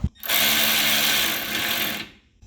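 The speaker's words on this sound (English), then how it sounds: "we're going to drill the mounting holes into the frame" A power drill whines steadily at high speed for about two seconds, drilling mounting holes into a steel vehicle frame, then winds down, with a short knock at the start.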